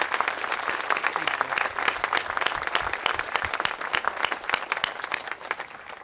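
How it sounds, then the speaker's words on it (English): Sustained applause from an audience at a 9/11 memorial observance, a dense crackle of many hands clapping with some louder individual claps standing out, moderately distant. "I'm going to ask for yet another round of applause for Vice Commander Scott"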